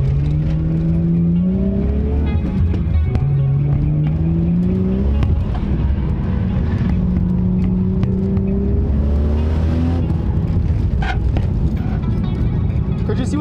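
A 90s Japanese car's engine revs hard on boost during a drift lap, a loud continuous drone with rising and falling pitch sweeps as the throttle comes on and off, close and steady throughout.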